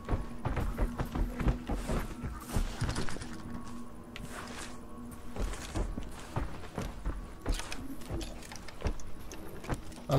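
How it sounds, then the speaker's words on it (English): Lock picking in the video game S.O.S., small metallic clicks and scrapes repeating irregularly under a steady background hum, close and fairly quiet. "I'm lock picking this one open"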